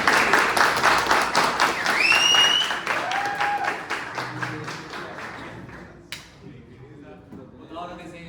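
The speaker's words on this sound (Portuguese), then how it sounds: "Galera, uma salva de palmas aí pra começar." A small group applauds at the start of a session, a brisk burst of clapping that fades out within a few seconds, with voices talking and chatting over and after it.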